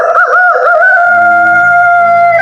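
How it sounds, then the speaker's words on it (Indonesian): A rooster crows loudly in a single long drawn-out call that rises and then holds steady, close to the listener, with a faint low hum beneath the second half. "Ahmad bangun di pagi hari karena mendengarkan suara kokok ayam."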